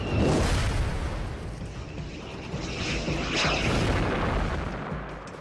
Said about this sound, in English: Again came the sound of the express train in a tunnel, and again the explosion.